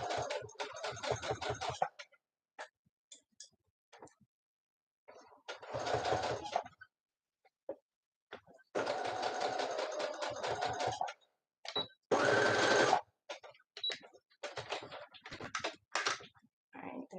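Home sewing machine stitching a beanie seam at the longest stitch length, in several separate bursts of fast rhythmic whirring, close and clear, with pauses and a voice speaking between runs.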